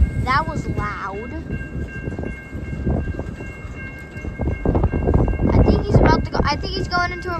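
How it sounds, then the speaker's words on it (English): A CN short line train slows near a road crossing, with rumbling wheel and car noise, clanks and a short horn-like tone, while people nearby talk over it. "We got a short line train. It's slowing down."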